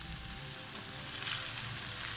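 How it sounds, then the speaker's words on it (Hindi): Boiled noodles sizzling in a hot pan of sauteed vegetables while chow mein is being made, a steady close frying hiss throughout. "अब हम इसके अंदर बॉईल किए हुए नूडल्स ऐड कर देंगे।"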